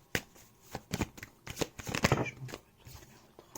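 Tarot cards are shuffled by hand in quick riffles and slaps, a series of sharp close papery bursts at an uneven rhythm, quiet, with no voice over them.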